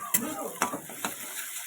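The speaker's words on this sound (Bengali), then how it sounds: "সর্ষের তেলটা গরম হয়ে গেছে, এবার পেঁয়াজ কুচিটাকে দিয়ে দেবো।" Chopped onion fries in hot mustard oil, giving a thin steady sizzle broken by a few sharp scrapes and knocks of a spatula stirring in the pan.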